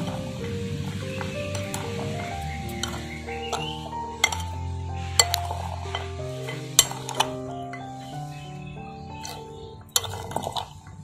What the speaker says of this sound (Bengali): ভালো করে চামচ দিয়ে পুরো ছোলাটাকে মাখিয়ে নেব।